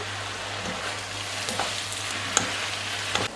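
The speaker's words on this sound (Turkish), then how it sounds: "ıspanaklar kavruldu" Spinach sautéing in a pan gives a steady close sizzle with occasional light utensil taps and stirring scrapes, and a low hum sits underneath.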